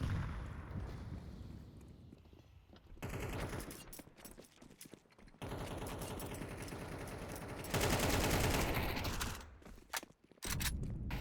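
Rapid M4 rifle bursts in Counter-Strike on the Overpass map during a competitive ESL Challenger League match, crisp repeated volleys of automatic fire with short pauses between them, loud and close.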